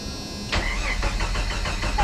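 An old, cheap Jeep Wrangler cranks and fires up after a brief click, settling into a loud, close, rhythmic idle with pulsing engine beats through the rest of the moment.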